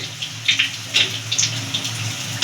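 Water being added to a pan of fish curry with chopped tomato, a short splashing pour with uneven gurgling bursts over a low background hum.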